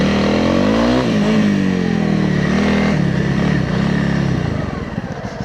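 A Honda CRF300L motorcycle engine climbs a steep trail with a loud, close, steady drone whose pitch rises and dips as the throttle changes, then eases off at the end.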